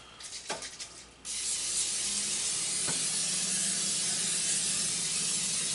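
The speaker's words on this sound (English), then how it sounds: "now you want to spray this pan down really good" Cooking spray from an aerosol can hisses in one long, steady burst onto a cake pan, preceded by a few short rattling sounds, close and loud with no talking.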